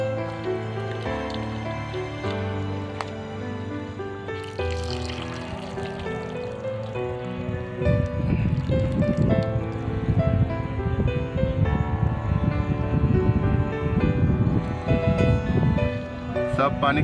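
Raw chicken pieces are washed and squeezed in water in a home kitchen, with wet squishing and sloshing growing stronger in the second half beneath steady background music.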